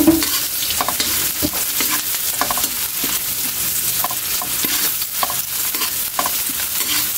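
Onions fry in a pan with a steady, loud sizzle while a utensil stirs and scrapes through them in repeated close clacks, with no speech.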